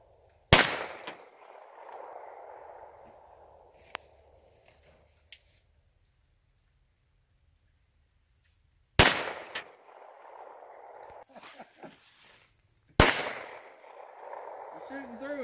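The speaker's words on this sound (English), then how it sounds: "I'm shooting through it." Rifle shots fired at propane tanks at an outdoor Thanksgiving shoot: three sharp, loud cracks spaced several seconds apart, each ringing off into the distance, with people talking in between.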